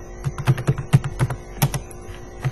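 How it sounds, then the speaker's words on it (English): Rapid keystrokes on a computer keyboard as player names are typed in, a run of uneven, close clicks and taps with brief pauses and no talking. "we can type Ronaldo, Ronaldo Lima"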